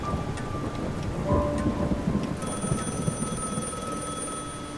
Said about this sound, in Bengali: বজ্রের গর্জন আর বৃষ্টির পতন।